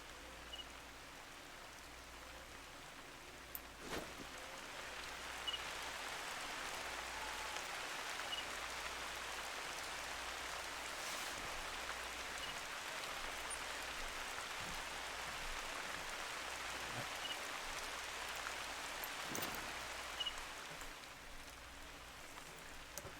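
Steady rain falls across an outdoor hunting landscape in theHunter: Call of the Wild, a continuous loud hiss with a few sharper clicks and taps mixed in, and no talking.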